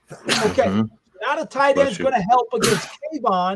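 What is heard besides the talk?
sneeze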